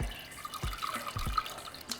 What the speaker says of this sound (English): after 15 minutes, we're going to drain the water